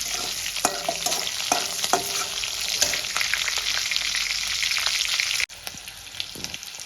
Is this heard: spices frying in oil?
yes